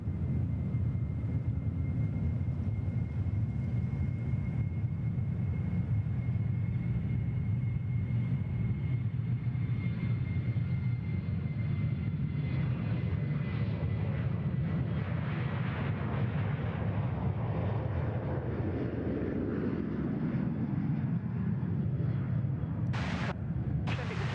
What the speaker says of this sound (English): Takeoff, Qantas 500.